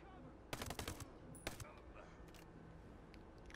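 Automatic gunfire from a game firearm in Ghost Recon Breakpoint, a dense close burst of rapid shots followed by a shorter burst, then quieter scattered combat noise.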